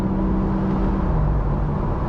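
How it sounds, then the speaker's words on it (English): BMW M4 Competition Convertible, the facelifted 2025 model, accelerates hard from the cabin, its engine a steady, loud, dense roar with a faint rising tonal whine held throughout. "And it just goes really fast, this engine."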